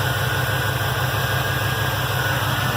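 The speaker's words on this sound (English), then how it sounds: "The engine sounds pretty good" A truck engine idles close by with a steady, low, even drone and a faint constant hiss, with no voices.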